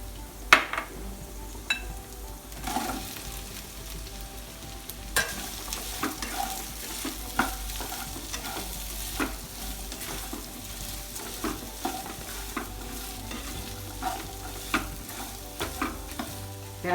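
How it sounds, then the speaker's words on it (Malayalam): Green chillies and onions sauté in a pan for a Kerala-style mutton stew, giving a steady, close sizzle across the whole stretch with frequent light scrapes and clinks of stirring and no talking. "ഇതിൻ്റെ പിന്നാലെ പച്ചമുളകും സവാളയും ഇട്ട് വഴറ്റുക."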